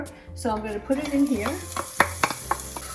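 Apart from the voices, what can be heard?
diced shallot sautéing in olive oil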